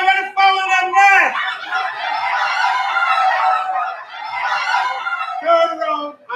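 Members of a live theatre audience imitate chicken and fowl noises, a loud, dense chorus of overlapping squawks and clucks that runs nearly continuously, with a few sharper crow-like calls at the start and the end.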